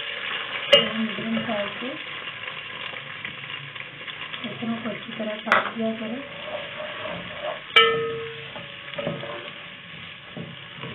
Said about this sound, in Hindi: प्याज़ों को हल्का गोल्डन करूँगी।